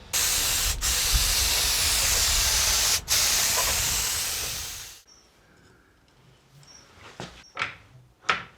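A spray gun applies undercoat to a Series Land Rover during a full restoration, a loud continuous hiss broken by two short pauses, then stopping at about five seconds and giving way to quiet clicks and knocks.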